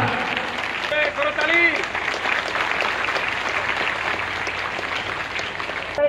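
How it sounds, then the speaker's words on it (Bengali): A crowd claps steadily and densely at a public reception, the applause sustained and fairly loud throughout with faint voices mixed in. "করতালি বন্ধ করা যাবে না।"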